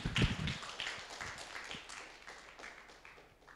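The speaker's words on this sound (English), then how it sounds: "Let's give more round of applause." A webinar audience claps in a small, scattered round of applause, loudest at the start and thinning into lighter separate claps over a few seconds.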